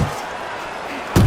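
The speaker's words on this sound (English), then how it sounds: "A crushing two-punch combo by Andre Bishop." A single heavy punch lands near the end in the boxing game Fight Night Champion, a loud close thud over a steady crowd and arena hum.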